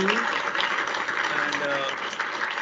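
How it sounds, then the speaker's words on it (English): Audience applause at a college best student award ceremony, a dense continuous patter of clapping, with a voice talking faintly over it. "Huge round of applause to you"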